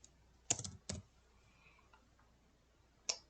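A few sparse, sharp keystrokes on a computer keyboard, heard as isolated clicks with quiet gaps between them in an otherwise hushed room.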